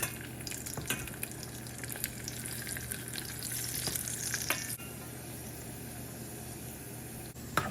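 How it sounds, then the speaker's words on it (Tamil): Mustard seeds, curry leaves and urad dal tempering in hot oil for beetroot pachadi, a steady close sizzle and crackle with occasional sharp pops and stirring clinks. "பீட்ரூட் பச்சடிக்கு கடுகு கருவேப்பிலை உளுத்தம்பருப்பு போட்டு தாளித்து போட்டிருக்கேன்"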